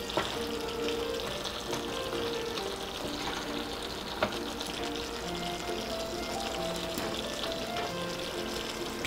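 Chicken and potato curry cooked with whole spices sizzles steadily under a lid on low heat, a continuous soft crackling hiss with no pauses or voices.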